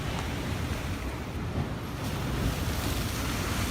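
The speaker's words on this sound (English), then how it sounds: "Listen to the ocean." Ocean waves wash in a steady, unbroken roar of surf, close and fairly loud throughout, with no voices.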